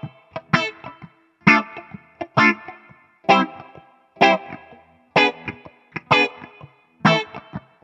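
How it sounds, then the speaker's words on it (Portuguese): Electric guitar through a phaser patch on an Ampero 2 Stomp pedalboard, eight strummed chords in an even rhythm, each with a bright sweeping swirl that rings briefly and fades before the next strum, played alone. "Aqui no meu Foot 2 eu tenho o meu phaserzão."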